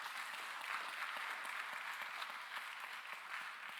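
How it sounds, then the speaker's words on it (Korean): Church congregation applauding at a Sunday young-adults worship service to welcome a member, steady crowd clapping heard at a distance and fairly quiet, even and sustained with no talk over it. "우리 함께 예배한 청년들을 위해서 박수하겠습니다. 박수로 환영하겠습니다."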